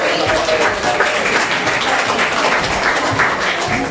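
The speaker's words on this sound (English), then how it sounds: "A round of applause for the Wolves and Spoons, please, ladies and gentlemen." A theatre audience at a Beauty and the Beast matinee pantomime applauds, a loud, sustained crowd of clapping filling the hall, with faint voices mixed in.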